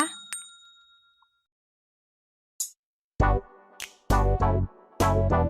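A notification bell sound effect: after a faint click and near-silence come several bright, ringing dings, each one sharp, loud and close, with short gaps between them.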